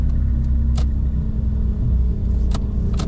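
A new Ford Everest Titanium, its engine giving a steady low rumble close by with a couple of brief clicks or thumps over the idle.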